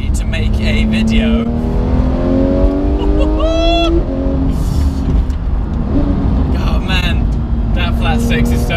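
Porsche 991 GT3 flat-six engine revving loudly up through rising pitch sweeps, dropping and climbing again, with someone talking over the close, continuous engine roar.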